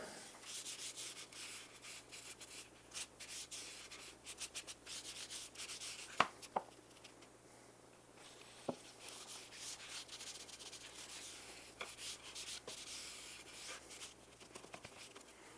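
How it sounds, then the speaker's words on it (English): Soft softwood screwdriver rack being flooded with wood finish and wiped down, a steady quiet rubbing and cloth-scrubbing texture with a few sharp knocks and clicks, no talking. "We'll just flood the surface, let it soak, and then wipe."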